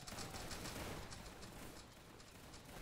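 A line of muskets fires a volley on command at a Waterloo battle between the French Third Corps and Britain: a faint, distant, crackling rattle of many shots overlapping in a dense burst, then fading into scattered pops.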